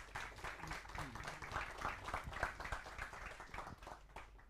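Audience applause at a climate policy seminar in Almedalen, a steady dense patter of many hands clapping that holds evenly for several seconds at moderate level.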